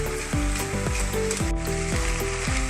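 Stir fry with tomato sizzling steadily in a hot pan while being mixed, a continuous close frying hiss with music playing over it.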